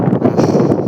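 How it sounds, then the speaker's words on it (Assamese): Strong wind buffets the microphone on a bridge during a cycling trip, a loud, continuous low rumbling roar with gusty fluctuations throughout the brief moment. "এয়া বতাহ মাৰি আছে পুৰা"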